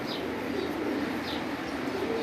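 Pigeons on a rooftop loft give soft, low cooing under a steady outdoor hiss, with a few faint higher chirps scattered across the moment.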